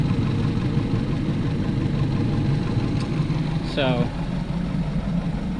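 Rebuilt 2007 Mazda 3 engine idling steadily right after a cylinder head install, a constant mid-pitched rumble close by, with someone talking over it and a brief higher whine near the end.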